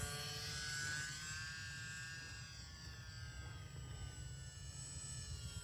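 A Volantex 500mm RC warbird plane flies, its small electric motor giving a steady, fairly faint whine with shifting pitch and a low background hum, no voices.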